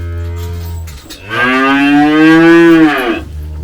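A young calf among farm cattle gives one loud, drawn-out moo close by, rising and holding for about two seconds before trailing off, over a steady low background hum.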